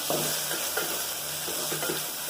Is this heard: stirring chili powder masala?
yes